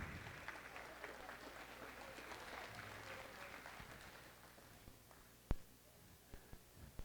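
Applause in a high school gym or auditorium at a winter band and choir concert, a broad wash of clapping that tapers off to a few lingering claps and thumps.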